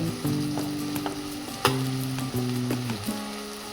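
Tomato masala with chilli, turmeric and cumin powder frying in oil in a pan for dhaba-style shev bhaji, a soft sizzle under a few sharp utensil knocks and scrapes as it is stirred, close by, no voices.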